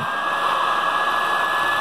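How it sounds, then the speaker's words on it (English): A heat gun or blow dryer held over packaging paper on foam wings produces a steady, close, even whooshing hum for the whole short stretch, with no talking. "just hold the heat gun or blow dryer or whatever right above that area"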